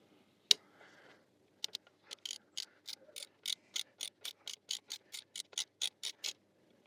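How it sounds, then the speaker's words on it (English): A drain plug is screwed back into a Benelli TRK 502X motorcycle with a ratchet. After a sharp knock comes a run of about seventeen evenly spaced, close ratcheting clicks. "Now after drying a seal, we can reinstall a drain plug back."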